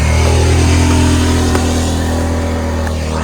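Motor vehicle engine revving hard as it accelerates up the steep road to Bukit Cirimpak camping ground in Megamendung, Bogor, a loud, close, sustained drone that holds steady, then eases slightly near the end.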